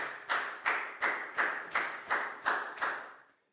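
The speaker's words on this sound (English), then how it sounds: "a big round of applause for Pak Bung, please, guys" A group claps together in unison, eight sharp, evenly spaced beats in a steady rhythm, then stops.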